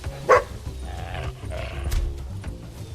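Dog barking in the video game Squirreled Away, one sharp close bark early on, followed by quieter game sounds and a low rumbling background.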